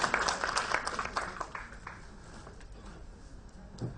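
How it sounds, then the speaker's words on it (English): An audience at a women chartered accountants' conference gives a round of applause for a speaker, strong at the start and gradually fading to sparse, quieter claps. "Can we have a huge round of applause for her?"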